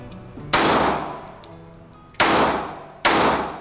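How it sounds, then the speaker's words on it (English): Three sharp, loud .22 pistol shots, each a bright crack with a ringing tail, the first alone and the last two closer together. "That's his .22 pistol."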